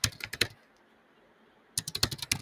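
Quick bursts of keystrokes on a computer keyboard while an email subject line is typed, close and crisp, a short flurry, a pause of near-silence, then another rapid run of taps.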